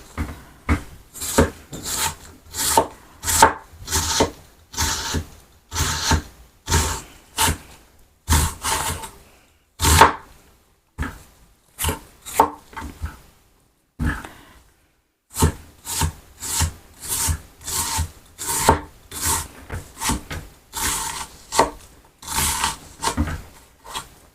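Black chicken is chopped into pieces for a gravy, with a long run of steady, repeated knife blows on a cutting board, a few brief pauses in between, close and loud with no talking.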